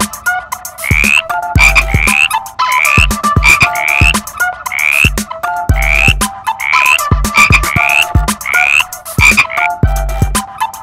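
A frog croaks close and loud in a steady repeating rhythm, each call a quick rasping pulse followed by a brief gap, continuing alone for several seconds.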